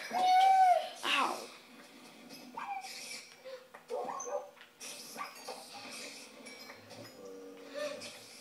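Dogs whimpering, yipping and barking in a survival video game, short cries and yelps scattered across the stretch, mixed with game sounds and talk.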